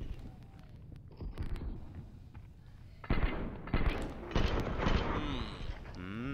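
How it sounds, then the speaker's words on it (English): MP9 gunfire in a Counter-Strike match on the Cobblestone map, bursts of rapid shots snapping out in clusters amid game ambience, while commentators talk throughout. "the MP7 or what is it, MP9 actually sounds kind of meaner with a little bit of slow motion to it"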